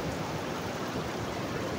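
The Seti river in Pokhara flows with a steady, dense rush of water, close and unbroken from start to finish with no voices.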